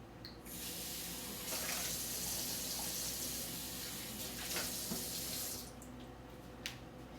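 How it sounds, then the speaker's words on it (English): Water from a running kitchen tap pours steadily into and around a container being rinsed out, a broad continuous hiss for several seconds that stops near the end, with a few small clinks. "I'm gonna rinse this out real quick."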